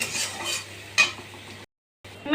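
Tilapia fish frying in a pan, a bright crackling sizzle with a sharp burst near one second, then a brief gap before the spattering resumes.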